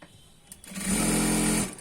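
A sewing machine stitches a seam on ankle-length pants, starting with a short whir and building into a steady, loud, close motor hum for under a second before stopping.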